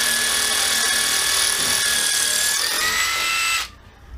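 A Makita 12V cordless drill runs steadily and loudly for a few seconds with a high, whining motor tone, then cuts off abruptly, leaving quiet room noise.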